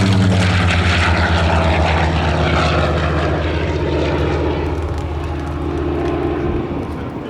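A Curtiss Helldiver dive bomber flies a pass at an airshow in Geneseo, New York, its loud propeller engine a droning roar that holds steady and then eases slightly as it moves away, heard alone without talk.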